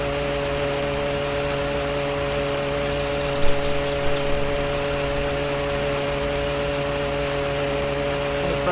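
A car engine in the video game My Summer Car runs loud and steady for several seconds, with an even mechanical drone and a few small bumps partway through.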